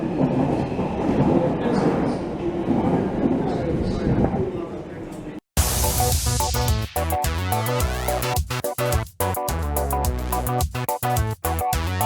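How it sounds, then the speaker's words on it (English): A London Underground train roars and rattles, then the sound shifts to a steady rhythmic clatter of wheels, loud and close, with voices briefly heard. "now we're going to get on this train"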